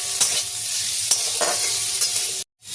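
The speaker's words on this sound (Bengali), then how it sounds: "পেঁয়াজটা হালকা করে আমি পেঁয়াজটাকেও সটে করে নেব" Cubed onion sautéing in a pan, a steady close sizzle with stirring scrapes and clicks throughout, cutting to near silence just before the end.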